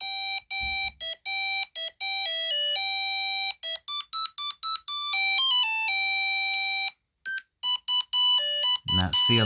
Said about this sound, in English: And that's the alarm.